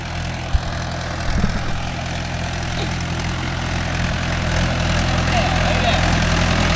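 Mahindra 575 DI tractor engine running steadily with a low, constant diesel drone, a brief knock near the start, continuing evenly throughout.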